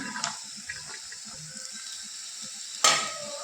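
Onion sautés in a pan with a soft, low sizzle and light stirring taps, followed by one sharper scrape of a utensil near the end.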